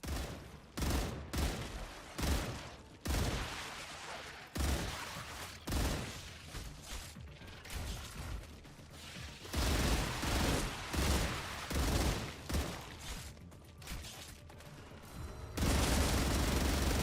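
Gun in the video game Star Rupture firing in short, repeated bursts across the whole stretch, loud and close, with brief pauses between volleys and a sustained burst near the end.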